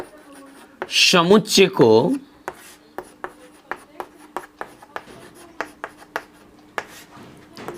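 Chalk or marker taps and scratches across a classroom board in quick, steady strokes, while a teacher speaks Hindi briefly at the start.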